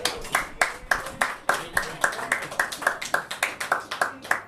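Comedy club audience clapping for the bar staff, a brisk burst of many hands applauding in quick, sharp, uneven claps, fairly close and lively throughout.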